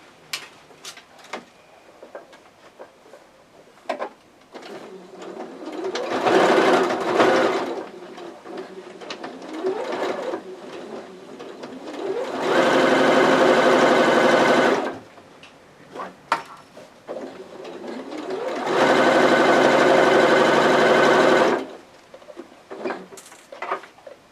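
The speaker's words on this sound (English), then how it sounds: "And then we'll sew straight across there." A sewing machine stitches a pillowcase into a baby dress in three runs of steady mechanical whirring. The first run is shorter and the last two are longer, with quiet handling clicks and fabric shuffling in the pauses between them.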